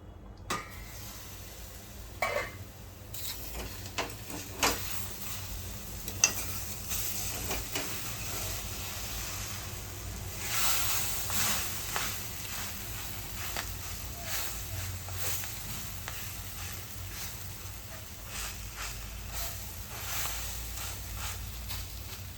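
Chillies coated in gram-flour batter cook in a pan, giving a faint steady sizzle with occasional scrapes and clinks of a utensil against the pan.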